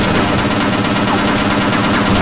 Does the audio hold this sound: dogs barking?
no